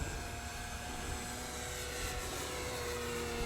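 A Diamond Katana light aircraft, a PA Katana MX, flies a single rolling circle, its engine droning steadily and fairly loud throughout with no talk.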